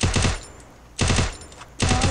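Bursts of rapid gunfire from a competitive ranked online shooter match, two loud clusters of quick shots separated by a short pause, with no talking.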